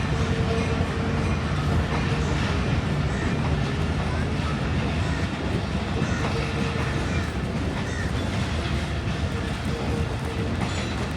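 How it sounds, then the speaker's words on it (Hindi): A passenger safari train on the Rawalpindi line rolls steadily on its rails, a dense continuous rumble and rattle of wheels and carriages heard up close from inside for the whole stretch. "फाइनली ट्रेन भी केपीके से पंजाब में एंटर हो गई है।"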